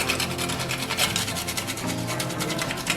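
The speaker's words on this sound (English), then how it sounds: "I have me a little fresh nutmeg here. I'm going to go ahead and put a few little shavings of that in there." Fresh whole nutmeg scraped across a grater into fine shavings, a brisk, rhythmic rasping of quick repeated strokes, close and fairly loud with no talking.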